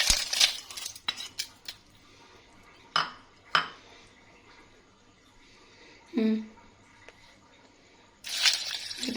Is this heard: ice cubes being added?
yes